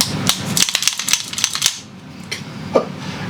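A few crisp, sharp pistol trigger clicks as the trigger is pulled and reset, close and fairly loud at first, then a couple of sparser clicks after a short lull.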